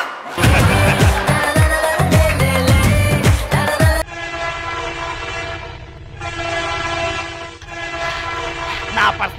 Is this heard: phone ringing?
no